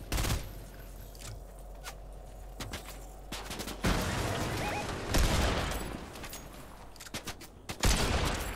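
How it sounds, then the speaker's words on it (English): Video game gunfire in Fortnite Chapter 5 Season 4 zero build, aimed at a bush: bursts of rapid shots and single cracks, some sharp and loud, others more distant, spread across the whole stretch. "I'll shoot at that bush and I can see him."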